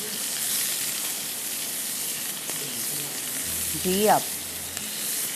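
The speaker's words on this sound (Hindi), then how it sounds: "बस सिर्फ इसको हम टॉस कर रहे हैं, सॉटे कर रहे हैं फॉर अनदर 2 मिनट्स" Chicken being sautéed and tossed in a pan with oregano, thyme and parsley gives a steady, fairly loud sizzle and frying hiss throughout, while people talk briefly near the end.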